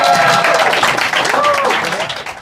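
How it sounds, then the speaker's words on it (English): A comedy show crowd applauds the first-half comedians, clapping mixed with cheering and voices, with a whistle or whooping tone rising above the noise before it starts to fade. "give it one more round of applause for our comedians of the first half"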